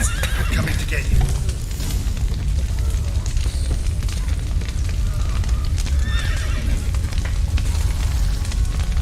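Horses whinny and neigh in The Witcher 3: Wild Hunt amid a busy, crackling background with hoof clatter and some talk mixed in.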